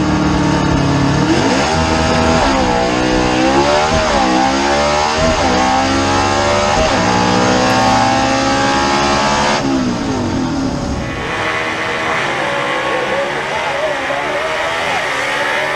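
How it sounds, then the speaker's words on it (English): A 1958 Delray race car at speed on track, its loud engine note climbing and dropping through repeated gear shifts, close and continuous with an onboard feel, over a steady mechanical roar. "We'll let you ride down the track with him and listen to him work the gears."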